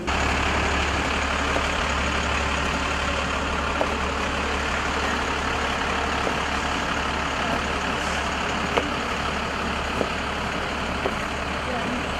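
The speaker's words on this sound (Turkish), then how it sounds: "Araç hareket edecek." A large vehicle's engine rumbles steadily at idle, close by and fairly quiet, with a few faint clicks and a soft murmur of people in the background.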